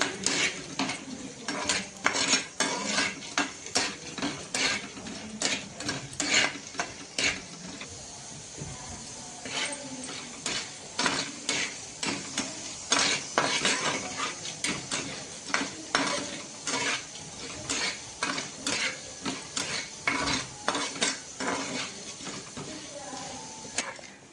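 Chana dal roasted in a pan for a village-style black-masala mutton, with a spoon scraping and clattering against the metal in a steady, busy rhythm of repeated strokes, close and fairly loud, with faint talk now and then.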